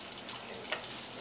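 Garlic and onions fry in a pan for Indian cooking, giving a soft, steady sizzle, faint and even throughout with one small crackle, and no voices.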